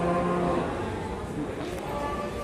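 A Simmental Charolais cow gives one long, steady moo, loud and close, lasting the whole stretch.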